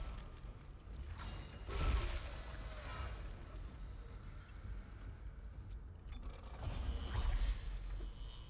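Elevator machinery creaking and groaning in the sci-fi horror game Dead Space, faint mechanical creaks and clanks with two louder surges amid a low rumbling hum.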